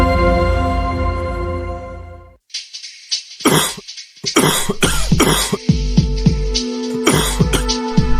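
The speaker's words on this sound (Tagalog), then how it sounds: "ang tagal na ng ubo mo ah" A run of sharp, harsh coughs in quick bursts after a stretch of steady music, some close together, with faint background noise between them.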